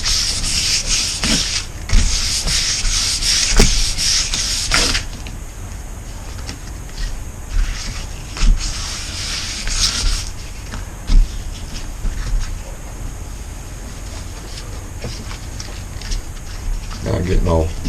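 Hand sanding a cured epoxy resin surface with sandpaper to fix blemishes before a second coat: continuous close scratchy rubbing strokes, louder early on and then softer, under a person talking.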